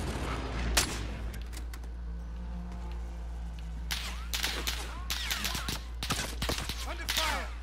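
Sharp bursts of gunfire from Call of Duty: Modern Warfare, a single loud crack early on, then dense rapid volleys and scattered shots crowding the second half over a steady low hum.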